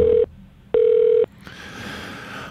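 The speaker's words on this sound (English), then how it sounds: "we'll wait for him to answer the phone" A hotel room telephone rings on a call, with two loud electronic ring bursts followed by a softer tone and quiet line hiss.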